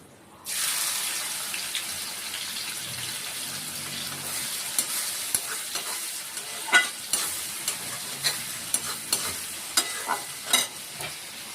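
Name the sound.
onions frying in a wok for chicken korma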